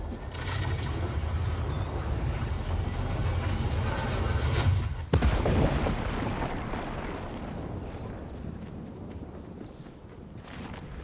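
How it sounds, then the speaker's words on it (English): Explosion in the video game Fortnite: a dense rumbling roar that peaks with a sharp blast midway, then decays into rolling noise, with scattered in-game clatter around it. "like I see the explosion and all"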